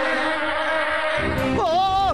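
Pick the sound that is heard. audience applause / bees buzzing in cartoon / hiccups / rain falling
bees buzzing in cartoon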